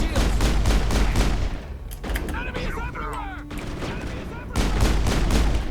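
Loud, rapid gunfire from squad combat in Mass Effect, dense bursts of shots for a couple of seconds, a short lull with softer effects, then heavy firing again, partly under a voice speaking.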